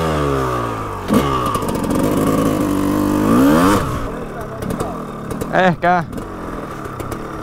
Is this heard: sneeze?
no